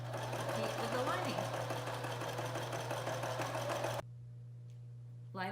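A sewing machine stitches the seam of a cloth face mask lining with a steady, close mechanical whir that stops abruptly near the end, followed by a brief quieter gap and a short burst of renewed stitching.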